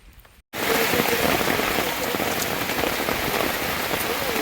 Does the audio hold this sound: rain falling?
yes